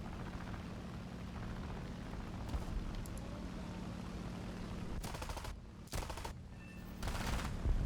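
Aircraft cannon and machine-gun fire in War Thunder crackles in several sharp bursts over a low, steady engine drone, the later bursts louder and closer together.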